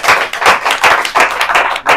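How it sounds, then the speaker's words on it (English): An audience at a tech talk applauding a speaker, a dense, loud burst of many hands clapping close by, steady throughout with overlapping irregular claps. "Let's clap for him."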